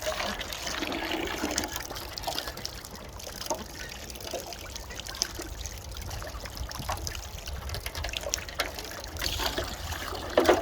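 Water runs steadily from a tap into a container on a farm near the dwarf Cochin chicken and duck coops, a continuous trickling pour that carries on for about ten seconds with faint outdoor background.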